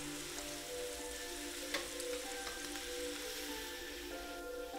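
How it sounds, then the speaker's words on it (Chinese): Fish fries in hot oil, a steady soft sizzle and crackle throughout, fairly quiet and with no voices. "用油煎会减少多余的水分，去除腥味的同时，亦会将可溶性蛋白固体化"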